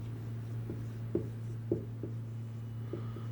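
A pen writes on paper during an accounting exercise, giving light scratchy strokes and a few soft taps close by over a steady low electrical hum, with no talking.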